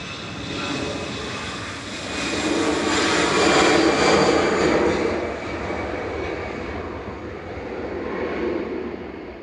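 An EasyJet passenger jet departing Manchester Airport, a broad engine roar that swells to a peak midway and then eases off at a distance, with no talk over it.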